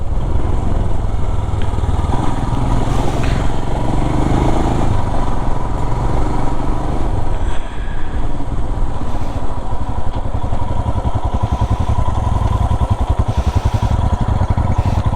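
A Royal Enfield Himalayan BS6 motorcycle on a hill ride, its engine thrumming loud and close in a continuous rapid throb, with no voices over it.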